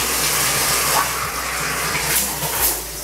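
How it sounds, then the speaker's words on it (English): Water from a shower in a newly built home runs in a steady, full rush of spray, continuous and fairly loud, with no talking over it. "we also gonna check the water pressure from the shower."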